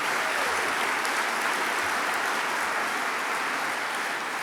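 Applause from an audience at a high school sports awards show honoring photographers, a steady broadband wash of clapping that holds evenly for the whole stretch without any voices.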